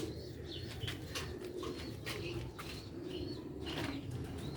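Master Abdullah chuha pigeons from Sialkot coo softly over a steady low background hum, with faint chirps and a possible flutter of wings, all at a moderate, even level.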